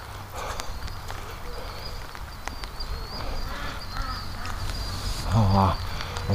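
Ducks quack in short nasal bursts on a windy outdoor farm in winter, with Canada geese and killdeer nearby; calls come scattered through steady wind and footsteps, with one louder cluster near the end.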